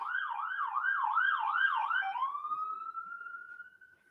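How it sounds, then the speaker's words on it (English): An ambulance siren warbles up and down rapidly, then shifts to a long rising tone that fades as the ambulance passes into the distance. "There's the ambulance number 2."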